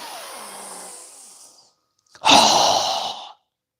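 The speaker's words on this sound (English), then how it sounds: "Strong exhale." A strong, forceful exhale during yoga breathing practice, a single loud breathy rush lasting about a second, heard up close after a softer breath and a brief pause.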